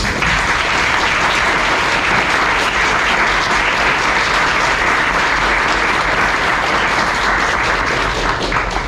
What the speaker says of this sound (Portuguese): uma salva de palmas para o Peter.